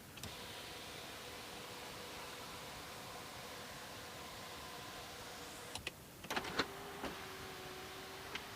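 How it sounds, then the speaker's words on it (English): A BMW 520d Sportline sunroof opening, a faint steady electric motor whir inside the car that ends with a few soft clunks and clicks as it stops, no talk. "Let's take the sunroof of the vehicle right away."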